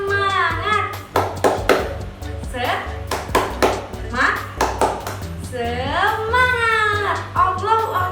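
Children clapping a rhythmic classroom cheer with a teacher, bursts of sharp claps in a steady pattern mixed with chanted and sung voices, close and lively.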